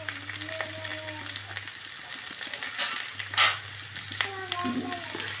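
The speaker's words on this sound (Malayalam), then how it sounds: "ഇതെല്ലാം കൂടെ നമുക്ക് നല്ലോണം ഒന്ന് വഴറ്റിയിടണം" Sliced onions with a little salt sautéing in a pan for a Kerala coconut chicken curry, giving a soft steady sizzle with occasional stirring scrapes, fairly quiet and close.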